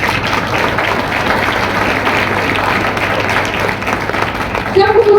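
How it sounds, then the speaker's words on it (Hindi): A Sunday service congregation claps loudly for the Lord, steady dense clapping that runs throughout, with a voice rising briefly near the end. "प्रभु के लिए जोर से ताली बजाइए"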